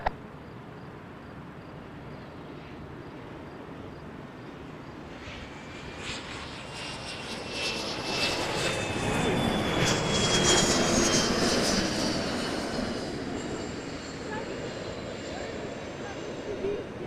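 A Jazz airliner takes off from Toronto Pearson Airport at night, its engine roar swelling steadily to a loud peak and then fading, with a faint voice in the background.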